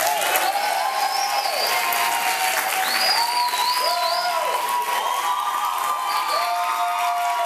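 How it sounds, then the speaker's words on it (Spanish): Studio audience applauding and cheering on a Venezuelan television talk show, a dense, loud, steady wash of clapping with some shouts that carries on for the whole stretch, without talk. "Un aplauso para Manuel que está aquí todavía."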